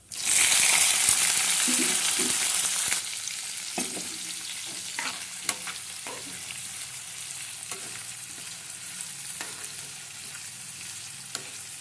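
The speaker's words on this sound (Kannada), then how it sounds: "ಇವಾಗ ಹೆಚ್ಚಿಟ್ಟಿರುವಂತಹ ಚಿಲ್ಲಿ ಮತ್ತು ಆನಿಯನ್ ಹಾಕ್ಕೊಳ್ಳಿ" Chopped chilli and onion frying in hot oil in a pan, a loud burst of sizzling when they go in, then a steadier sizzle broken by scraping stirs, for fenugreek leaf stir-fry.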